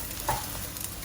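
Eggs fry in a wok for beef fried rice and are pushed aside, a brief soft sizzle with a light scrape of stirring and no talking.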